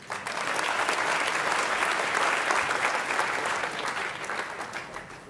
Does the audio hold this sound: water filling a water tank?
no